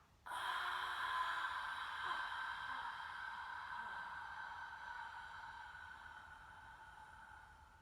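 A long, deep breath pushed out through the airways during a standing pranayama exercise, one steady, close exhale that swells in at once and then slowly tapers as the lungs empty.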